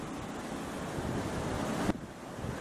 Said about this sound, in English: The water's a little rough because it was raining earlier today